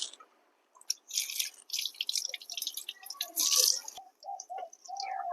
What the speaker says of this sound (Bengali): এঁচর কাটার সময় এরকম ভাবে জল চালিয়ে দিয়ে এঁচোরটা কাটবেন